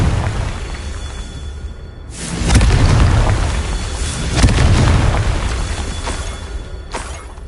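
Heavy booming Confringo spell explosions in Hogwarts Legacy, two loud bursts a couple of seconds apart with rolling low rumble, ending in a sharp sudden crack near the close.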